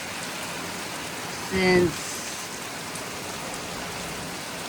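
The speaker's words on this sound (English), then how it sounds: "It's pouring." Heavy rain pouring outside a home on a Christmas morning, a steady broadband hiss under a brief spoken word.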